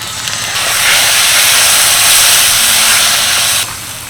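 Spice water from rinsing a grinding stone hits hot oil and frying masala in a pan, a loud sudden sizzle that holds steady for a few seconds and then drops back.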